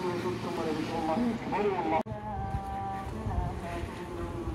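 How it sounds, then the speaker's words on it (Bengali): A call to prayer from a nearby mosque in Dammam, Saudi Arabia, carries as a drawn-out, melodic chanted voice with gliding pitch, heard from some distance over wind and background noise. "ভিডিওতে মনে শুনতে পাচ্ছেন আরেকদিকে আজান দিচ্ছে নামাজের"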